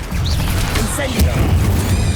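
The Incendio fire spell cast in Hogwarts Legacy, a dense whooshing burst with a sharp crackle near the middle, set against a busy game soundscape with a voice present.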